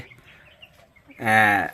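Sonali chickens kept in a rooftop coop for eggs make a loud, drawn-out squawking cluck near the end, after a stretch of quieter background clucking and rustle.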